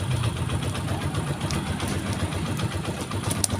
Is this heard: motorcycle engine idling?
yes